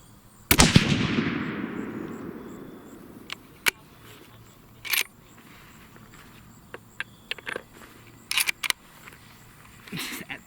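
A single loud rifle shot from a Savage 111 in .270 Winchester firing a Barnes 130-grain TSX load cracks and rings out, followed by scattered sharp mechanical clicks and knocks.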